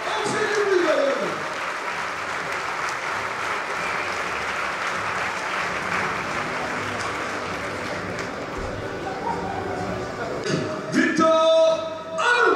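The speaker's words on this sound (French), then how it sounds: "c'est la jeunesse qui arrive à l'applaudir très fort. Allez, on fait du bruit" A large crowd applauds loudly and continuously at the Aviron Bayonnais rugby team presentation for the 2025/2026 season, a dense roar of clapping that swells again near the end with voices rising over it.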